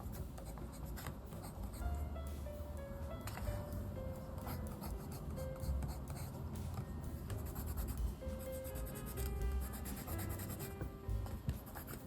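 Steady scratchy rubbing of a pencil moving across paper, continuous and close, with faint music in the background.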